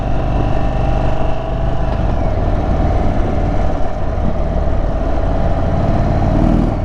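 An Indian Chief motorcycle with the 116 engine pulls steadily in third gear, giving a loud, continuous rumbling drone with wind rush that holds without a break from start to finish.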